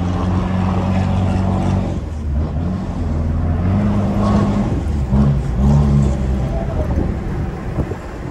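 A Toyota Hilux engine revs up close with a deep rumbling drone, rising and falling in a few surges over a constant low throb.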